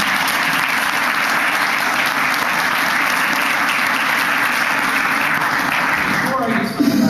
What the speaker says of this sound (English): real quick applause for our guests